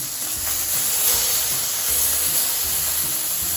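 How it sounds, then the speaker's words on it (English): Wagyu steak fillets sear on their sides in a hot pan, giving a loud, steady broadband hiss and sizzle that runs unbroken throughout with no talking. "I like to sear the sides"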